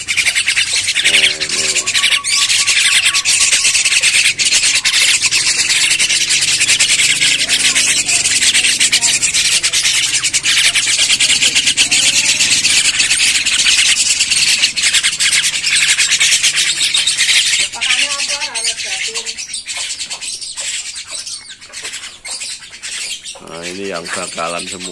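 Young Javan myna (jalak kebo), roughly one to three months old, keeps up a dense, continuous raspy chattering and squawking at close range, with brief whistly notes breaking through near the end.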